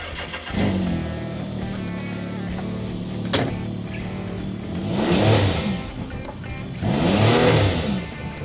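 A parked vehicle in a yard engine fires up and then gets a couple of revs, each rising swell loud and close over a steady idle.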